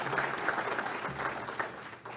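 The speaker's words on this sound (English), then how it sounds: "I think they deserve a round of applause for the service they've given to the city" Applause for outgoing city council members at a New Port Richey city council debate, a soft, steady round of clapping from a modest audience, somewhat distant and even throughout.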